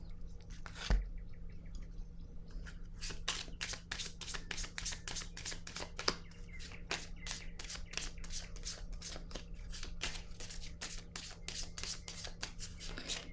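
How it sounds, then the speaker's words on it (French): A tarot deck handled to draw a card gives quiet, rapid flicking and riffling of cards, a steady run of small papery clicks close to the listener. "Je vais piger une carte."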